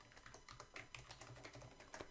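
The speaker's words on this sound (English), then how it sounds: "you won't be able to see what you're typing on the keyboard when you're entering the password on here" Rapid, uneven key clicks as someone types a password on a computer keyboard at a university terminal login, close and steady with no talk.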